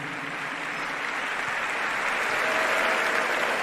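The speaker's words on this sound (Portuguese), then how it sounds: "Palmas para Jesus." A church congregation applauds steadily, a dense wash of clapping hands that holds throughout and swells slightly toward the end.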